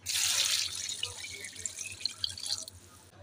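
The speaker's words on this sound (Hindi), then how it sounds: "और पानी भर के" Tap water runs into a cooking pot while making Peshawari mutton rosh (namkeen gosht), a close, steady rushing pour with light splashing that eases off toward the end, with no talk.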